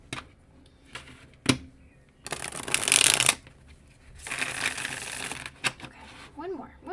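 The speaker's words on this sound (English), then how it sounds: "Okay, one more quick shuffle." A deck of oracle cards is shuffled by hand in two bursts of riffling and flicking, with softer handling taps and rustles before and after.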